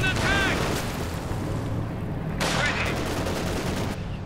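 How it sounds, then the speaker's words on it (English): Artillery shells and gunfire boom and crackle in a Company of Heroes 2 battle, 122mm high explosive shells bursting in two heavy impacts with rumbling tails, loud and close over a steady battlefield din. "Panzer is close to getting wiped out there by the 122mm high explosive shells"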